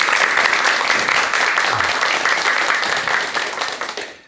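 An audience before a lecture breaks into loud, dense applause that holds steady for several seconds and then fades out at the end.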